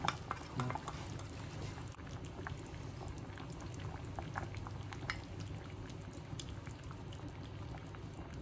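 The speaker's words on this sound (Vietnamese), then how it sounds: "Mình cho bột bắp, mình quậy với nước lạnh xong rồi mình sẽ cho vào nồi cà ri." A pot of chicken curry simmers quietly as cornstarch slurry is stirred in, giving a faint, continuous bubbling and liquid swirl with a few soft clinks and no talk.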